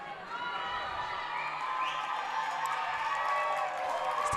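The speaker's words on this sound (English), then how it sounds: "The crowd get excited here at Family Sports Center" Crowd at a high school hockey game in an ice rink, CCHS against Valor Christian, a broad far-off cheer and murmur building late in the game as a commentator talks over it.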